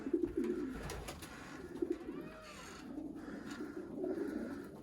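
Racing pigeons coo in soft, low, rolling calls that repeat across the whole stretch, fairly close, with faint outdoor background and no speech.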